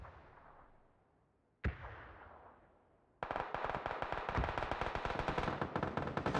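Gunfire in a PUBG match, one sharp shot with a long decaying echo at a distance, followed by sustained rapid automatic fire that keeps going.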